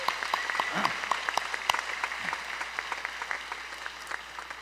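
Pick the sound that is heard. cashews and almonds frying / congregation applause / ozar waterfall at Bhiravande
congregation applause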